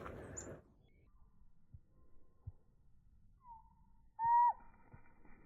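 A pet bird calls outdoors in a blizzard, with a few brief, clear whistled notes near the end standing out against quiet, gusty wind and soft thumps.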